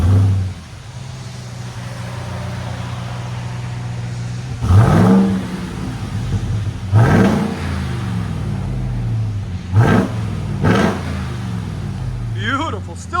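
A 2023 Ram TRX with its supercharged 6.2L HEMI V8 and factory exhaust idles with a deep rumble, then revs sharply in four loud bursts that each fall back to idle, ending on a short whine.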